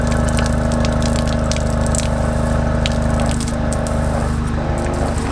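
Portable shower spraying water at a muddy bike park, a steady, loud, continuous hiss and splash with a constant pump hum beneath it, running unbroken for several seconds with no voices.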